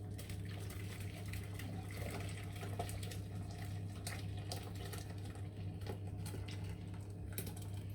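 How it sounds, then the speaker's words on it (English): Hot chashu broth poured carefully from a container into a casserole, a steady, close liquid trickle and splash running continuously over a low background hum. "you want to pour your Chashu broth into your casserole carefully"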